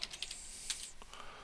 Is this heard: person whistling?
no